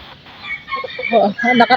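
Chickens at a poultry farm clucking in short, close bursts that grow louder toward the end, with someone talking nearby.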